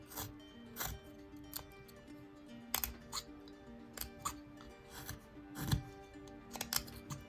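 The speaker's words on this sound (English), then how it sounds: "So I'm putting a nice deep stop cut, which is straight in like that." A knife pressed straight into wood while carving a Santa ornament, making a deep stop cut: quiet, irregular short cuts and clicks scattered through the clip, close and fairly faint, with no talking.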